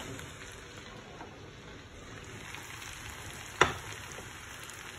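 Spiced fish hisses and sizzles steadily in hot oil, a soft crackling bed of frying with a single sharp clink partway through.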